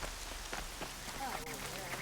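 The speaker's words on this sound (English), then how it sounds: "Rain's not so bad." Rain falling in the video game Horizon Zero Dawn, a faint steady patter on surfaces, with quiet speech partly audible beneath it.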